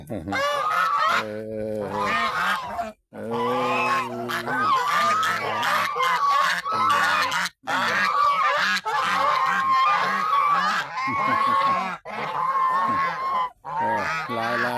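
Ducks or geese call near water in loud, repeated honking bursts that carry on for about fifteen seconds, with only brief pauses between runs of calls.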